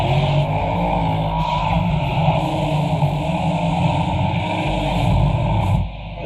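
Race cars on a track, engines roaring steadily and loudly throughout with a brief tire-skid edge, the noise dropping slightly at the very end.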